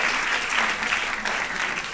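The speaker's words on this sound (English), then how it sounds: "Clap it up for that one." A studio audience applauds at a dating show, a dense, steady wash of clapping that stays loud for the whole stretch, with no clear speech on top.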